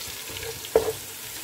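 Cumin and ground spices sizzle as they are stirred in a pan while chicken pulao is being cooked, with a steady soft frying hiss and one brief louder scrape or stir in the middle.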